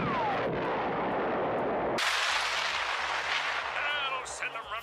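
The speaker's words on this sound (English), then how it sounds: "has one of his men shoot the bomb to blow it up" A cartoon gunshot strikes a bomb and sets off a loud, roaring explosion that fills the scene before trailing into rumbling debris.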